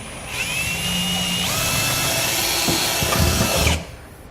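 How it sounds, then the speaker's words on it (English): A power drill with a long bit whines continuously as it bores through a Ram truck's metal bed and hat channel, loud and close, then cuts off abruptly near the end. "I'm going to come back with a larger, longer drill bit so I can go all the way through the hat channel."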